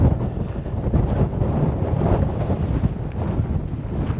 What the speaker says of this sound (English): it's blowing a gale here, 40km/h wind, constant, gusting to 50